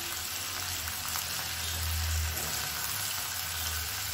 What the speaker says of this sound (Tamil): இது வந்து எண்ணெயில் நல்லா வதக்கி விட்டுக்கலாம்.